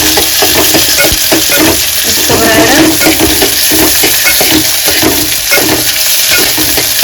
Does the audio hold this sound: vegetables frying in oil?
yes